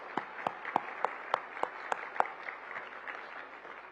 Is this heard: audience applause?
yes